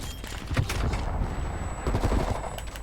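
Rapid bursts of shotgun and automatic gunfire in a hardcore-mode first-person shooter match, loud and close, with repeated blasts clustered at the start and again near the end.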